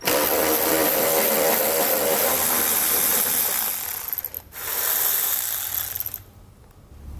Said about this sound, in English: you want to get a 10mm socket and pull all of those out